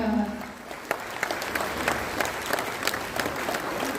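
Clapping rises from the audience at a Tamil awards ceremony at Kamarajar Hall in Chennai, greeting a chief guest. The steady crowd applause carries scattered sharper individual claps, and it begins just as a voice trails off.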